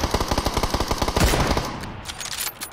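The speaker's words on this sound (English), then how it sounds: "I need to land my shots, Matt." Rapid automatic gunfire in PUBG, a fast string of loud, close shots that trails off into quieter scattered sounds with no talk.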